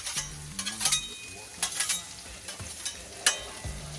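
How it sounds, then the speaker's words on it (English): Precooked potatoes frying in bacon fat on a Blackstone griddle, a close, steady sizzle punctuated by several sharp metal spatula scrapes and clanks. "So we're cooking them off in that bacon fat."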